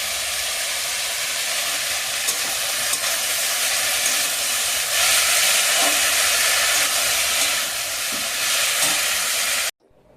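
Spiny gourd (kakrol) and potatoes with turmeric and salt sizzle steadily in hot oil, a dense close frying hiss that holds for about ten seconds before cutting off abruptly.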